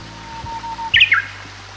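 A Japanese bush warbler in the countryside of Kita-Harima, Hyogo, gives a single brief, unusual whistled call, sharp and close, after a quiet moment with faint water-like background noise.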